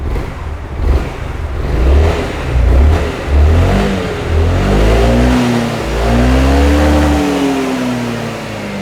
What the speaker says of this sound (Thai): ต่อแล้วมาฟังเสียงเครื่องยนต์กันครับ